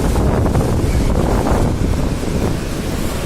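A loud, continuous roar of rushing water from Niagara Falls nearby, with gusts of wind buffeting the microphone throughout.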